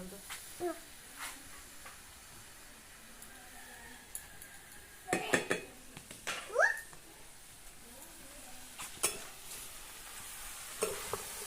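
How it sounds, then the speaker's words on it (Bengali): Spinach being added to a pan of lightly boiled potatoes and stirred in a village kitchen: scattered scraping clatters and soft rustles over a low background, with a brief animal-like squeal midway. "আমি আলুটা হালকা সেদ্ধর পরে পালং শাকটা দিয়ে দিলাম। এরপর আমি এটা ভালো করে নেড়ে নেব।"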